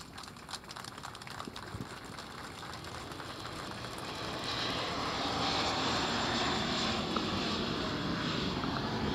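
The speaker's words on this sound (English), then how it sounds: "I think that's the 10:30 flight to LaGuardia going by." A fixed-wing airplane passes overhead on its way to LaGuardia during an outdoor ribbon-cutting ceremony, a steady engine roar that swells and grows louder through the second half, with no talk over it.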